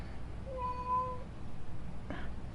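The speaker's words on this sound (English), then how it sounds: "And now he's like meowing at my feet" A house cat meows once, a clear drawn-out cry at close range in a quiet room, followed by a brief softer sound.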